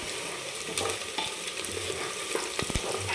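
Sliced onion frying on full gas for a spicy mutton rassa, a loud close sizzle with spatula stirring scrapes and a few sharp clacks near the end, no talking.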